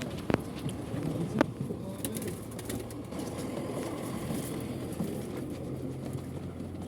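Pigeons cooing softly amid a dense, rustling background, with a couple of sharp clicks early on.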